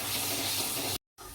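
Water pours in a steady, faint stream into a spice mixture cooking in a pan, briefly cutting off and then resuming.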